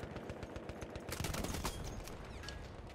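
Battlefield 1 gunfire, with rapid bursts of shots and scattered single cracks at a moderate distance, layered into a busy, continuous battle din.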